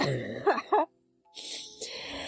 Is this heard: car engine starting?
no